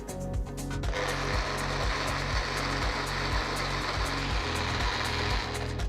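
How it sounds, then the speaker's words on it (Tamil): A kitchen blender grinds carrot, soaked almonds and cashews with a splash of milk into a smooth paste, a steady loud whir with a pulsing churn running the whole time after a short start. "கொஞ்சமாக பால் ஊற்றி நல்ல ஸ்மூத்தான பேஸ்ட்டாக அரைச்சி எடுத்துக்கலாம்"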